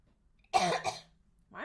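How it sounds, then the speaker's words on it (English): A single person gives a short, harsh cough with a throat-clearing quality, close and fairly loud, then a brief second burst begins just before the end. "Why am I coughing?"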